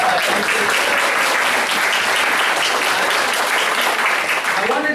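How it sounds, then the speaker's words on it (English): Sustained audience applause at a local council candidate forum, loud and dense throughout, with a murmur of voices mixed in beneath the clapping. "Please, let's give them a round of applause."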